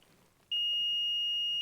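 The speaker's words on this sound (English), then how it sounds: "With the switch closed, it should make a beep like that." A multimeter continuity test: a single steady electronic beep switches on abruptly and holds as a continuous high-pitched tone until the end, over a faint quiet background, as a closed switch on a 1943 Case SC tractor is tested.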